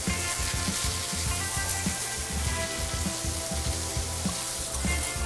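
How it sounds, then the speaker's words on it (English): Basmati rice sizzles steadily in a hot paella pan, a dense, continuous crackling hiss that stays at an even, fairly loud level throughout with no voices. "I'm just going to cook this for a little bit to get the rice to open up a little bit"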